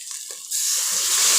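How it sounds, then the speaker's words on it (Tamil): About half a tumbler of water is poured into a kurma, a curry made with chili powder and sambar powder, starting with a sudden steady rushing splash, close and fairly loud. "ஒரு ஒரு அரை டம்ளர் மேலே தண்ணி ஊற்றிக்கோங்க"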